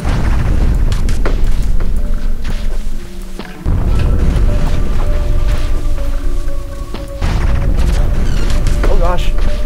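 Bomb blasts from the side-scrolling game Owlboy, a run of dull booming thuds and crashes over a dense, busy game soundtrack, with a brief drop near the middle and talk mixed in.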